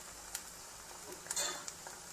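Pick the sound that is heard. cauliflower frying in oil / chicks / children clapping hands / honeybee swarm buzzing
cauliflower frying in oil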